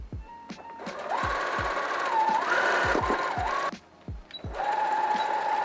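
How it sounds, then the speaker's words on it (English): A sewing machine runs a straight stitch along a folded length of inexpensive fabric, its close, steady motor whir broken by sharp needle clicks and a brief pause before stitching resumes. "folding it in half and sewing with a straight stitch all the way until I get to the end of this on both sides"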